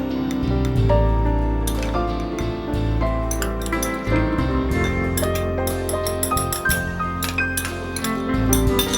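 Eggs being beaten in a bowl for a lava cake, a rapid run of close clinks and ticks from utensil striking the bowl over a steady low hum, continuing without pause and no talk.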